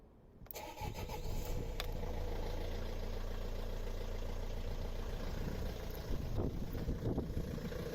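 A Nissan Primastar 1.9 turbo diesel van engine cranks and catches, then settles into a steady, close, rumbling idle that runs on evenly for several seconds with no talking.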